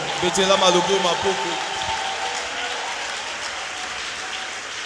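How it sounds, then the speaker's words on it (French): A church congregation applauds in response to a reading of scripture, a broad steady clapping wash that is loudest at the start and then settles into a sustained, slightly fading roar while voices speak over it. "Que quelqu'un acclame cette parole."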